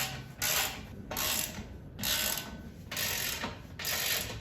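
A socket wrench ratchets a bolt on a Harbor Freight engine crane being assembled, with five even, loud rasping ratchet strokes in a steady rhythm, close up and with no talk.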